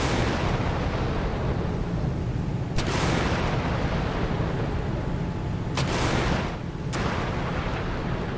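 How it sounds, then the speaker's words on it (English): A German F124 Sachsen frigate launching Harpoon missiles in the Sea Power naval game, a steady heavy roar broken by three sharp, loud launch cracks spaced a few seconds apart. "She has fired, or will fire, yep, all 8 harpoons out."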